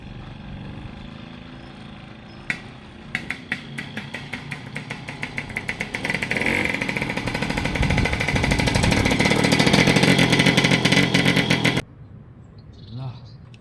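A vintage scooter with a freshly worked-on carburettor is kicked over a few times, then fires and runs as a rapid, loud, rattling two-stroke buzz that revs for several seconds before cutting out abruptly; a voice speaks briefly afterward.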